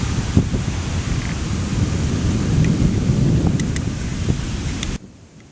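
Stormy wind roars over a creek, a steady broadband rush with low rumbling that suggests thunder, holding for about five seconds before cutting off abruptly.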